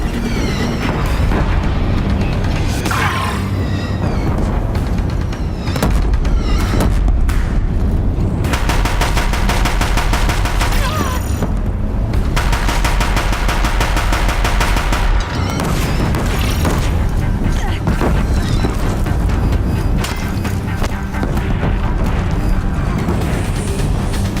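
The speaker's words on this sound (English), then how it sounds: "If the Deathbringers keep firing, this bridge will go." Deathbringer heavy guns in Horizon Zero Dawn fire nonstop, a dense, loud rattle of rapid shots and booming impacts that runs the whole stretch with only brief drops in intensity. Nobody speaks.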